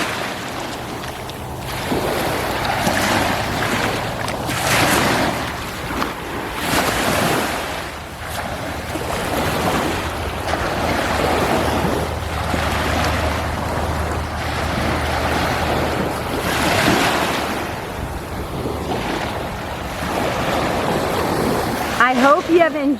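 Gulf of Mexico surf washes onto sandy Biloxi Beach in Mississippi, with waves rising and falling in a continuous roar and heavy wind buffeting the microphone throughout.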